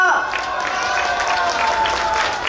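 An audience at a street performer carnival final in Zhongzheng Park, Zhongli, claps together in a dense, sustained round of applause lasting a few seconds, with a speaker's voice over it.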